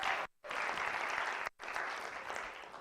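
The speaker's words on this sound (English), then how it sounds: "round of applause, please" An audience at an awards ceremony for a debate and storytelling competition bursts into steady applause, broken by two brief silent gaps before the clapping resumes, dense and full throughout.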